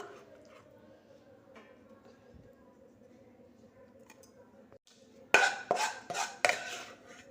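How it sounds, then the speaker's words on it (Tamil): Coconut halwa scraped from a pan onto a plate, faint clinks and scrapes at first, then several louder metallic clatters and knocks of a spoon against pan and plate near the end. "இந்த தேங்காய் அல்வாவை இப்போ ஒரு பிளேட்டுக்கு ட்ரான்ஸ்ஃபர் பண்ணிடுவோம்."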